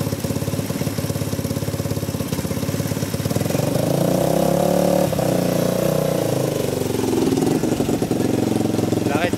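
A Honda 125 XLS motorcycle engine idles close by with a steady, throbbing mechanical chatter, rising slightly in revs midway, with no talking over it.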